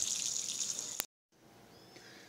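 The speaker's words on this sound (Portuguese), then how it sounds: "essa é a terceira água que eu tô passando aqui" Water poured and running while bredo greens are rinsed in a third change of water, a steady moderate splashing that breaks off into silence, then a quieter trickle resumes.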